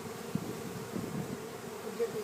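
A honey bee swarm buzzes steadily during a large swarm removal in Tarkington, Texas, a faint continuous drone with no talk over it.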